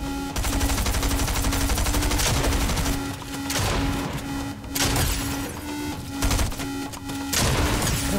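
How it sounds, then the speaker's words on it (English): Constant loud gunfire in Fortnite, dense overlapping bursts of automatic shots from all around, continuous with brief lulls and no talking. "There's just constant shooting all around me."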